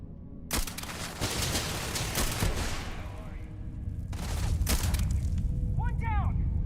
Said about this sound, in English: that's a really inaccurate gun trying to fire from the hip while moving